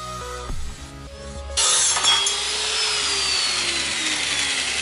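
A power saw cuts through a BMW 335i exhaust pipe, first a brief lower tool sound, then a loud sustained high grinding rasp of the blade biting metal that continues steadily to the end.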